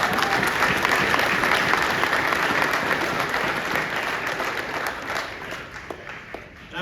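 Sustained applause from a convention audience, a dense steady wash of many hands clapping that holds throughout and tapers only slightly toward the end, with no talking over it.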